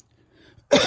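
A single close, harsh cough bursts out abruptly after near silence in a home garage where a Mini Cooper S R53 engine is being reassembled.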